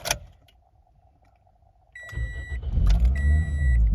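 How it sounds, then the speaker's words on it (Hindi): A car engine cranks and catches after an ignition coil replacement, with electronic chime beeps and a rising steady engine rumble close by following a quiet pause. "तो गाड़ी को स्टार्ट कर लेते हैं।"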